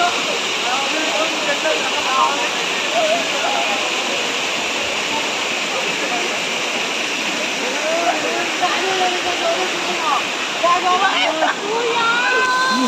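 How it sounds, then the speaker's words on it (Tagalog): Steady rush of Daranak Falls in Tanay, Rizal, fills the scene, a constant broad hiss with voices talking faintly over it. "So mahina yung bagsak ng tubig ngayon eh"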